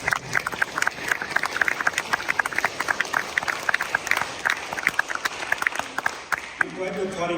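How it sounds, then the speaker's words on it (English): Town hall audience on Medicaid applauds with sustained, lively clapping and crowd noise throughout, fairly loud and close, before a voice begins speaking near the end. "I'm glad you're applauding yourselves"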